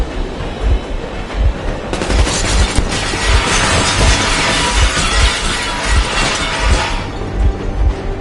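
Warning gunfire in Metro Exodus: a long, loud automatic burst with sharp cracks and repeated heavy booming thumps at a steady rhythm, mixed with rumbling engine noise, close and without talk.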